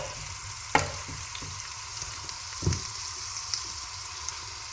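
Ginger frying in a pan as the base of a noodle sauce, a steady soft sizzle throughout with a few light clinks and stirs, fairly quiet and close, no talking.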